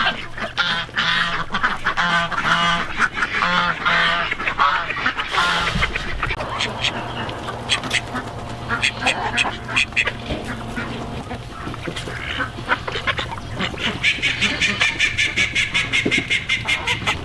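Several ducks by a coop quack continuously and noisily up close while being fed grain, with honking calls overlapping and a voice occasionally in the mix.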